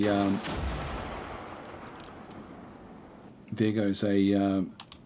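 A missile fires in the strategy game Armored Brigade 2 with a sharp blast that trails into a long, fading rush of noise, followed by someone talking over the tail.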